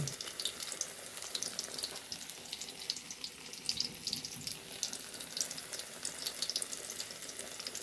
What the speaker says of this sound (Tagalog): Simpleng pagluluto ng pritong saging.